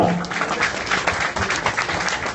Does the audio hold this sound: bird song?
no